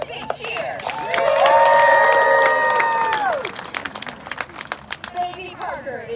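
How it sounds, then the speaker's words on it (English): A Renaissance faire crowd cheers for a baby falcon during a falconry show, a loud swell of voices and whoops over scattered claps, tapering into lighter clapping and chatter. "Everybody give Baby Parker a big cheer."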